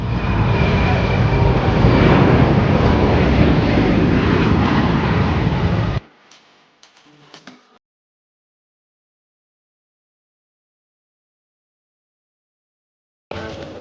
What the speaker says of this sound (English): let's go and watch some of the videos when some of the aircraft were taken off and landed